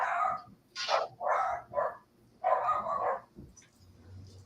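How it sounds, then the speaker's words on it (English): Dogs in a house bark in a run of loud, close yaps and barks, several in quick succession with short pauses between, with no talk over them. "I apologize for my dogs."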